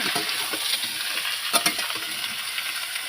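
Jackfruit curry is stir-fried in a pan, with a loud, close sizzle and rhythmic scraping strokes of a spoon against the metal, plus a couple of sharp clinks.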